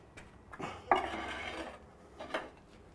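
Metal roasting pan being slid into a brick beehive oven, a loud clanking scrape of metal on brick with a few lighter knocks and clinks around it, close by in a quiet room.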